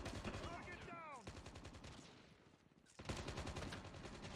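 Gunfire in the mobile video game Call of Duty Mobile, with dense, rapid automatic shots in two sustained stretches separated by a short lull, mixed with faint voices.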